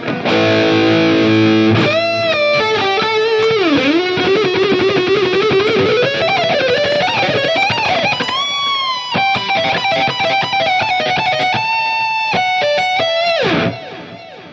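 A high-gain distorted electric guitar played through a NUX MG30 multi-effects unit rings out with chugged chords, bends and sustained lead notes. It stays loud throughout and cuts off sharply near the end, with no talking.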